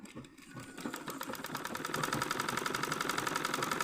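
A sewing machine stitches along the waistband of a pair of trousers, starting slowly and quickly settling into a fast, steady mechanical rattle close by.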